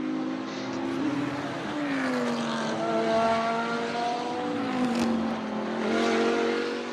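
Race cars in a sim racing game for a virtual 24-hour event whine past on track, several engines overlapping as they rise and fall in pitch with gear changes, moderately loud and steady throughout.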